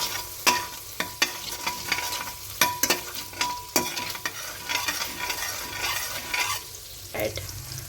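Two spoons of oil melt and sizzle in a pan, a soft steady crackle broken by repeated sharp stirring clacks of a spoon against the metal, close and without speech.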